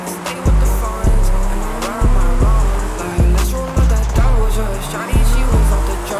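A Hot Wheels Audi R8 drifts around a track with loud, close engine revs that climb and drop sharply about every second, like repeated gear shifts, over a constant roar, with a voice faintly underneath.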